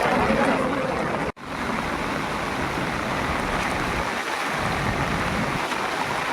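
Floodwater rushes downstream from the Singur project during heavy rain in Medak district. A steady, dense roar of water continues throughout with one brief dropout near the start.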